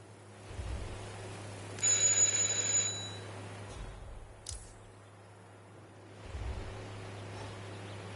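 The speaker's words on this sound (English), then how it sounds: "Just ring the doorbell." A doorbell in the Hitman video game rings with a bright electronic chime lasting about a second, followed by a short sharp tone, over a low steady game hum with soft footsteps.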